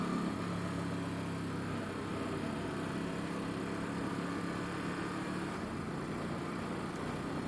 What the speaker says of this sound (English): Yep, that guy's definitely on a two-stroke